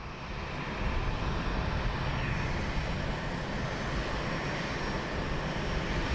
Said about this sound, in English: So we have this EasyJet taxiing out, and then we have an inbound aircraft as well.